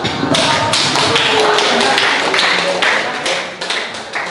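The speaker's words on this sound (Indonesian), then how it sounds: "Tepuk tangan dulu." A group of students in a classroom claps their hands together, a dense, steady patter of many hands held for about four seconds before tapering off near the end.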